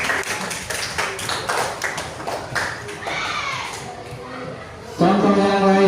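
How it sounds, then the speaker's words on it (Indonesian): A class of children clapping hands together in a classroom, a brisk burst of many overlapping claps for a few seconds, fading before a teacher's voice resumes. "Tepuk tangan."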